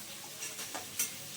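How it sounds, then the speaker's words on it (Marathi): Chopped onion sizzles faintly in hot oil while a spoon stirs it, giving a soft, low frying hiss with a few light scraping strokes, quiet and brief. "कांद्याला थोडा हलवून घ्यायचा असं, म्हणजे एका जागी राहत नाही"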